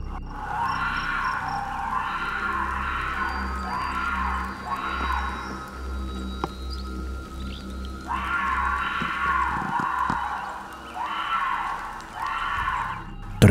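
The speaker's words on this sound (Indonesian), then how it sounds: "Teriakan singa gunung yang pasti akan memberi mereka mimpi buruk" A mountain lion screams in a forest, giving repeated drawn-out wailing cries in two bursts of several calls each, loud and echoing over a low rumbling background.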